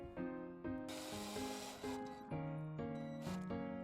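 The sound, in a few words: power drill driving screw into wood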